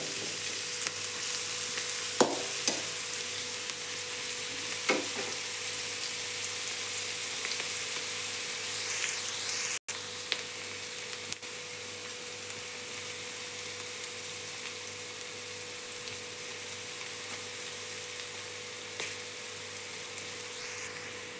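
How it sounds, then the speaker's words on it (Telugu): Onions frying in a pan, giving a steady, even sizzle throughout, with a few faint stirring scrapes early on and no talking. "ఉల్లిపాయలు బాగా వేగిపోవాలి."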